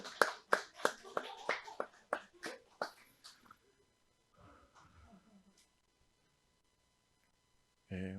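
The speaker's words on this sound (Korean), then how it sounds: "박수." Audience in a church clapping in a quick rhythmic burst of about a dozen claps. It fades into near silence with faint rustling.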